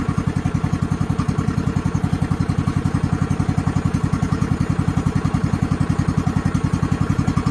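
A ride-on mower tractor engine runs at a steady idle just after starting, close and loud, with a fast even putter and a mechanical clatter that keep going without a break.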